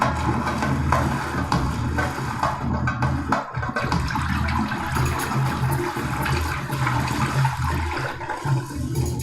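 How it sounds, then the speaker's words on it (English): Fish splash and jump in tropical waters off an island, heard as a steady, loud rush of churning water that continues for the whole stretch with no voices. "There's some fishies splashing around, jumping around the water."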